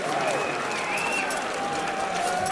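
Crowd in an arena at a CS:GO esports match, a Dust 2 map at DreamHack Open Tours 2018, cheering and clapping in a steady roar under a caster's excited talk.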